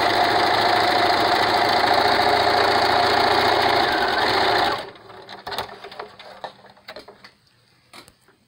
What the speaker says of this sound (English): and then just continue sewing that line.